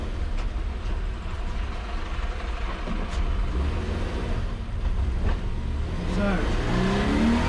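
A Toyota GT86 accelerates while driving up a road, its engine droning steadily with road rumble heard from inside the car and a rising note toward the end.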